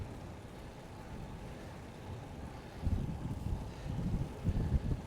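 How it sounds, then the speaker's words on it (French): Low, rumbling wind buffets the microphone while cycling through the Vercors Sud, growing stronger and gustier in the second half, with no speech. "Vent en pleine gueule."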